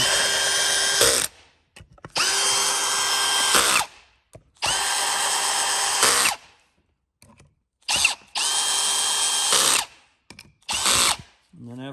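A power drill driving cap screws with lock washers down into a steel assembly, four sustained whirring bursts of about two seconds each separated by short pauses and clicks, close and loud.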